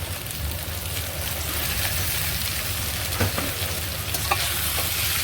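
Fried potatoes and prawns stirred into spice masala frying in oil make a dense, continuous sizzle up close, with occasional scraping knocks from the stirring spoon.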